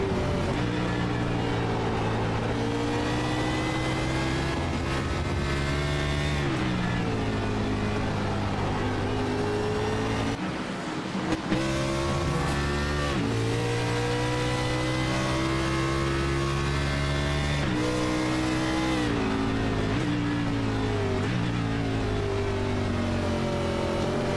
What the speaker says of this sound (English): You can hear the car just trying to reach for grip as much as possible